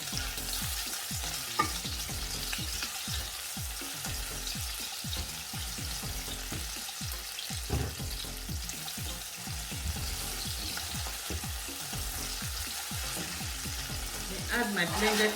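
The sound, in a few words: tomato puree and pepper frying in pan, stirred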